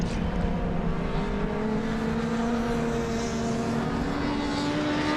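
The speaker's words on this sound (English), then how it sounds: "Here comes our race leader back over the start-finish line." A race car at Donington Park sweeps across the start-finish line during a touring car race. Its engine drones loud and steady, and the pitch climbs gradually with no break in the sound.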